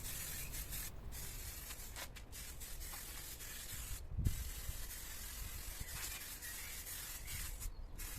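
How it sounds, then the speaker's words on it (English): Outdoor furniture and mats in a backyard dining area being sprayed down with water, a steady close hiss with brief gaps and a short louder splash midway. "I'm just spraying this down, and I'm also going to spray down the mats that I have for this area as well."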